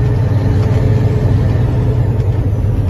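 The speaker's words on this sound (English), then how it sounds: "Truck runs good. Good sound driving truck." A 1997 Kenworth T600 truck's engine runs at a steady, loud, close rumble with a deep low-end throb and no talking over it.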